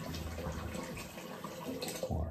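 A faucet runs while shaving gear is rinsed at a sink, a soft close splashing stream that wavers and ends in a brief gurgle.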